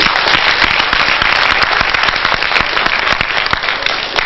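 An audience at a youth leadership gathering in Lagos State breaks into loud, sustained applause, a dense crackle of many hands clapping close by with hardly any talk over it.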